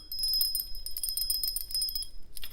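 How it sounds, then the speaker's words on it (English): Small metal cowbells jingle in rapid, bright clusters of ringing, close and fairly loud with no voices. "we've actually got some little cowbells"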